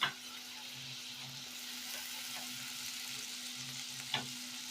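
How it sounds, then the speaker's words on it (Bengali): Ginger, garlic and grated onion fry together in a pan with a soft, steady sizzle and a faint hum underneath. Occasional stirring scrapes and a light knock at the start and near the end. "আদা রসুন পেঁয়াজ সব একসঙ্গে ভেজে নেব"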